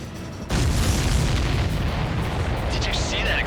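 A shot-down enemy aircraft explodes in the video game Ace Combat 7: a sudden loud boom bursts in after a brief quiet and rolls on as a dense, sustained rumble, with faint chirps near the end.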